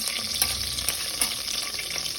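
Cashews fry in hot oil for a vegetable biryani, making a brisk, close sizzle with a few soft stirring clatters over a couple of seconds.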